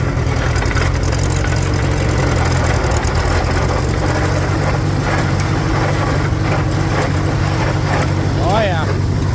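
A Farmall H tractor engine runs with a steady low, throbbing idle as the clutch is let out. The beat is close and continuous, with a person talking over it.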